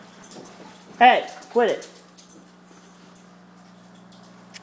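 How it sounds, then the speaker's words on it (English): Two short, sharp whimpering yelps from dogs indoors near a windowsill hydroponics setup, close and fairly loud against a steady low hum, with a person speaking briefly between them. "Dogs are acting up."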